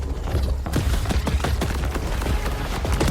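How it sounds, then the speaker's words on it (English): Rapid, loud bursts of shotgun-like assault rifle fire from the video game Borderlands 4, repeated booming shots with heavy low-end thumps over a dense background of game sound. "I like this gun. It's like a shotgun AR."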